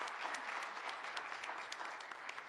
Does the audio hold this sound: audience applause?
yes